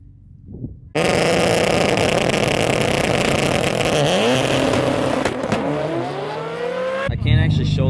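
An Audi RS3 race car launching at a Las Vegas event: a sudden, very loud engine roar bursting in and holding at high revs, with shifting pitch sweeps and crackles near the end.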